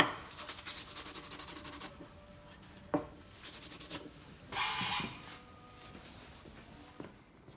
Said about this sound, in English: Now just some light sanding.